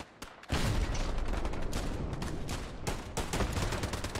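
Dense, close gunfire from the World War II shooter Hell Let Loose, with sharp overlapping rifle and machine-gun bursts starting abruptly and continuing loud and nearly nonstop alongside distant booms.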